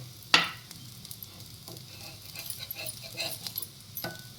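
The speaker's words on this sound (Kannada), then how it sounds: "ಎರಡೂ ಕಡೆ ಬ್ರೌನ್ ಕಲರ್ ಬರೋ ಹಾಗೆ ಬೇಯಿಸ್ತಾ ಇದ್ದೀನಿ" Puri cutlets sizzle in a little oil on a hot griddle, a soft steady frying hiss close by, with a sharp scrape or clatter near the start and light utensil clinks later, no voices.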